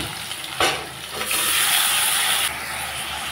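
Ridge gourd drops into a hot frying pan with a sharp splash, then a loud, steady hiss of frying and stirring that cuts back to a softer sizzle, close by.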